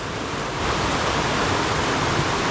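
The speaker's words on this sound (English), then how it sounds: "you can see the waterfalls going up and out of this little valley" Steady, loud broadband rush of waterfalls on Cuffs Run stream in a small mountain valley near a confluence, a continuous wash of falling water with no voices.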